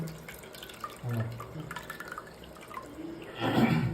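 Tamarind water is squeezed by hand, strained and poured while a prawn curry is being made, with soft wet dribbling and splashing that swells into a fuller pouring stream near the end.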